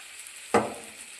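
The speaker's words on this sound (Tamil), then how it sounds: "இது நல்லா பொரிஞ்சு வரட்டும் இந்த தக்காளி" Ground tomato paste dropped into a hot pan of oil, a sudden sizzling splash that flares up loudly then settles into a quieter, fading hiss, close by with no talking.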